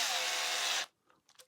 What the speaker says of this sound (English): I forget that I'm talking when the drill's on.